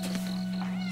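A frightened stray cat hiding under a shipping container lets out a close, loud meow, with a steady electrical hum underneath.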